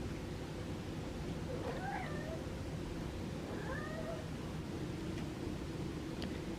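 A feral cat gives a couple of short meows, faint and somewhat distant, over a steady hiss of background noise in a room.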